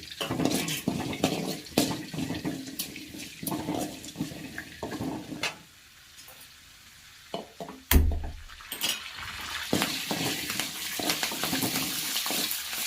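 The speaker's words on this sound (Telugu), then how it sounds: "ఏడు పచ్చిమిరపకాయలు కట్ చేసుకొని నిలువుగా కట్ చేసుకొని ఇలా ఫ్రై చేసుకోవాలి తర్వాత కొద్దిగా కరివేపాకు వేసుకొని ఫ్రై చేసుకోవాలి" Slit green chillies and curry leaves fry in a pan with a steady sizzle, broken by frequent clanks and scrapes of a stirring utensil, a brief lull, then a sharp knock before the frying resumes.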